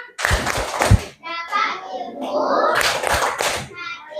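Children in a classroom clap out a patterned rhythm of quick bursts, with sung or chanted voices between and over the claps, close and lively.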